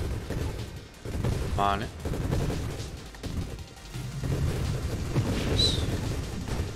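Grenade explosions and bursts of gunfire from the space shooter game Nova Drift crackle and boom in a rapid cluster, heard under someone talking.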